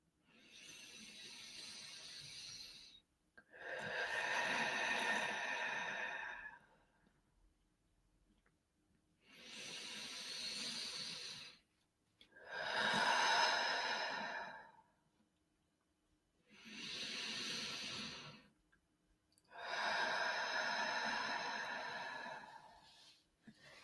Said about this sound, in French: tu vas prendre 3 respirations profondes